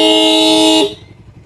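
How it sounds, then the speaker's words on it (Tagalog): A loud, steady horn blast from a Suzuki Raider 150 Fi motorcycle with a clean wiring setup, held for nearly a second and then cut off sharply, leaving a quiet tail. "Tapos ito yung busina."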